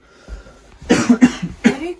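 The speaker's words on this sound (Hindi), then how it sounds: "बस मामूली सी खांसी लग रही है" A person gives a mild cough, a short burst of several hoarse, throaty coughs up close and fairly loud, with no other talking.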